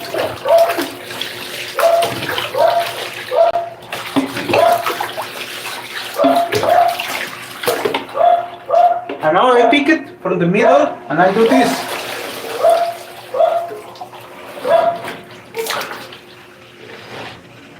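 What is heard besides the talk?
water poured while hand-washing clothes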